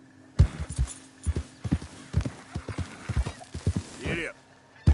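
A horse in Red Dead Redemption 2 gallops close by with sharp, uneven hoofbeats, a brief whinny or snort near the end and faint breathing between strides.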